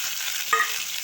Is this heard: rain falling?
no